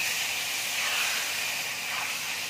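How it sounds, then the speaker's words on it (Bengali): Potato pieces drop into hot oil already spiced with asafoetida, cardamom, cloves and bay leaf for a raw green banana curry, giving a loud, steady hiss of sizzling that holds evenly, then cuts off abruptly. "আমি আলুটা দিয়ে দিচ্ছি।"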